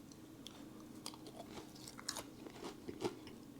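Crunchy bites and chewing of a Doritos-coated mozzarella cheese stick, a series of soft, close crunches spaced irregularly and quiet overall.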